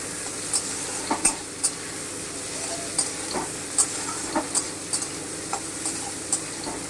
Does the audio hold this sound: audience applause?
no